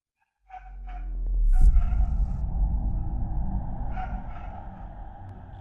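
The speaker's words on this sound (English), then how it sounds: "A series of guttural, wet-sounding grunts and wheezing roars erupts from the direction of the woods." Guttural, wet grunting and wheezing roars from woods near a home security camera, starting abruptly after a brief pause, swelling loud and rough, then trailing into a long, sustained wheezy rumble with no talk.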